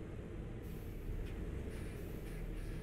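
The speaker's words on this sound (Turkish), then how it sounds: "Fren hava seslerini çok güzel yapmışlar bu arada." A Mercedes Travego 16SHD coach's air brake in Euro Truck Simulator 2 gives a broad hissing release of air over the low drone of the idling engine, steady and close.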